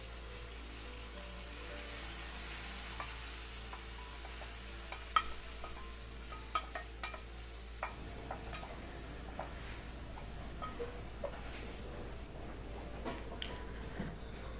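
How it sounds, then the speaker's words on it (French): Food being stirred in a pot in a fish soup and chicken curry cooking session, with soft scraping clicks and a low steady simmer hiss throughout, fairly quiet with no voices. "Je mélange."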